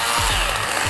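A small chainsaw-like trimmer cuts up little branches, its motor a loud, steady buzzing whine with brief dips in pitch as the chain bites into the wood.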